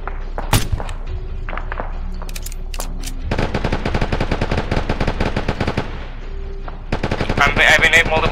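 Gunfire in a military combat video game, with scattered single shots and thuds followed by sustained loud rapid machine-gun bursts amid battlefield noise.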